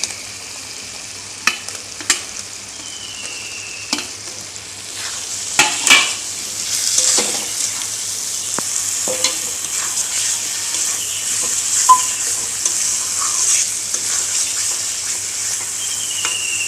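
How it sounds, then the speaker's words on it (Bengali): Masala spices fry in a pan for a fish curry, a steady loud sizzle with sporadic sharp scrapes and knocks of stirring, heard alone without talk. "মশলাটা ভালোভাবে কষাতে থাকবো।"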